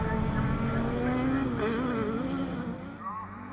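Rallycross race cars at Croft brake hard into the hairpin, their engines roaring loudly and then dropping in pitch as they slow, with a commentator talking over the noise.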